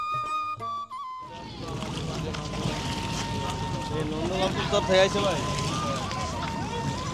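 A fishing trawler approaches on the Padma river near a char, its engine a steady drone with a low hum and wind noise, while someone talks over it throughout.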